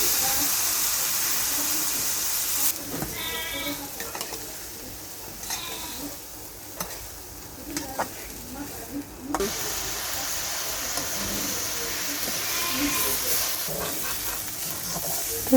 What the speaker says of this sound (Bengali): তো মা হলো এখন এই যে দেখেন চুকলা ভাজি করব।